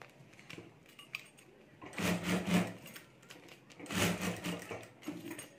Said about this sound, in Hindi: तो यहाँ भी मैं एक सिलाई कर देता हूँ।